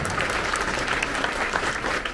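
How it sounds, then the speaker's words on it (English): Audience at a sixth-grade promotion ceremony at Woodbury Elementary School applauds students honored for perfect attendance, with brisk, dense clapping from a packed room filling the short stretch. "A big round of applause for perfect"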